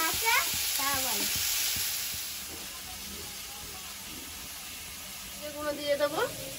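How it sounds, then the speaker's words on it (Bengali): Malabar spinach stalks fry in a pan, with a loud sizzle at the start that settles into a steady hiss while people talk over it and a spoon scrapes now and then. "এবার পুঁই শাকের ডাঁটাটা দিয়ে দেবো"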